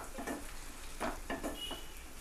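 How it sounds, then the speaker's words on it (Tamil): Three tomatoes with ginger and garlic sautéing in a pan for restaurant-style butter paneer masala, giving a soft steady sizzle broken by a few stirring scrapes, faint and close, with no voices. "தக்காளி ஆட் பண்ணிடலாம் மூணு தக்காளி இதே நல்லா சாஃப்டாக ஆகிறது வரைக்கும் நல்லா வதக்கி கொடுத்துக்கலாம்"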